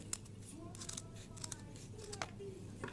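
Scissors snipping through folded paper to shape a forked end on Christmas decoration trim, a few quiet crisp cuts over steady low room hum.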